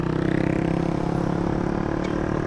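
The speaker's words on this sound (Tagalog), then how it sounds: "sa umaga, Honda Beat yung motor" A Honda Beat motorcycle runs at a steady pace on a morning ride, its engine droning evenly up close alongside road noise, with no talking.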